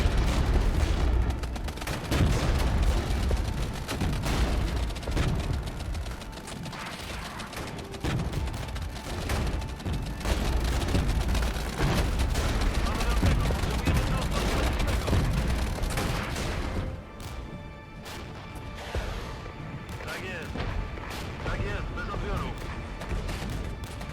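Artillery barrages and volleys of gunfire in the video game Regiments, as Polish infantry face a British armoured assault, rumble dense and loud throughout, with crashing impacts and crackling shots piling over one another and talk running beneath.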